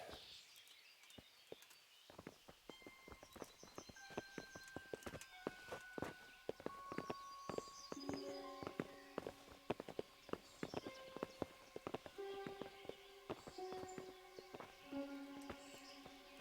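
Horses clip-clop steadily on hard ground in the medieval game Kingdom Come: Deliverance, a brisk irregular run of hoof strikes at close range with birdsong and faint insect buzz in the background.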